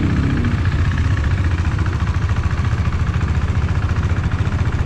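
A KTM 390 Duke's single-cylinder engine idles steadily at a fairly high idle up close, its rapid, even putter continuing without a break.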